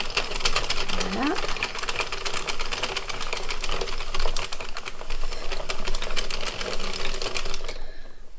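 A domestic knitting machine turning as it knits a small wool rabbit, giving a steady close mechanical clatter with dense rapid ticking, slight cracking as the machine adjusts, and a voice talking over it.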